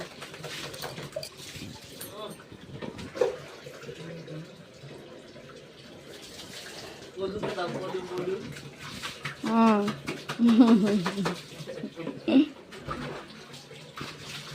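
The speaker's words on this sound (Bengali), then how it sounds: "এখন যাকে স্নান করানো হচ্ছে সে হলো ধলু, আর ওটা হলো ওর মা।" A dog is bathed with running water, splashing and trickling softly from a tap or bucket while people talk over it in the foreground and a bird coos faintly nearby.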